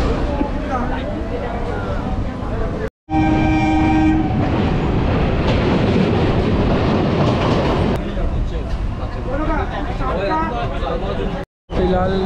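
Local passenger train running between Sealdah and Shantipur in West Bengal, heard from inside a carriage as a loud continuous rumble and rattle with a brief horn, two sudden cutouts, and voices talking throughout.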